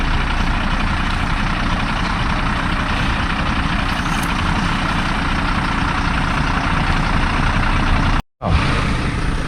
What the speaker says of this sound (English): the water truck is now coming into action